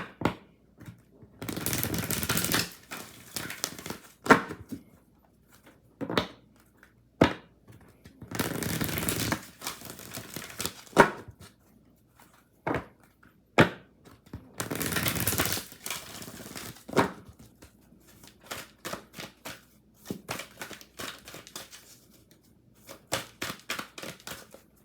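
A deck of oracle cards is handled and shuffled in repeated bursts of riffling and flicking separated by short pauses, close and crisp, with lighter taps and slides of cards in between and no talking.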